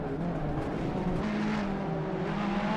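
Race car in the Assetto Corsa EVO driving game, its engine droning steadily and close with a slowly shifting pitch, continuous throughout with no voices.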